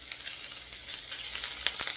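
Ginger pieces hitting hot oil in a pan, giving a steady, close frying hiss with crackling pops that sharpen toward the end.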